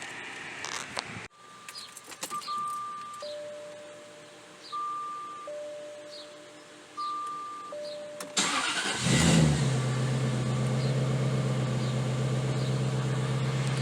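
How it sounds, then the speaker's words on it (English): A Jaguar XK8 engine cranks and catches, then settles into a loud, steady idle close by, after a stretch of quieter cabin sounds with repeated chimes. "Right now we've got the car started."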